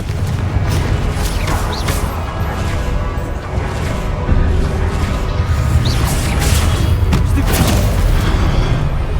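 Loud, booming blasts of the Confringo explosion spell in the video game Hogwarts Legacy fill a dense, continuous roar of impacts and crashes, with a few sharper hits standing out along the way.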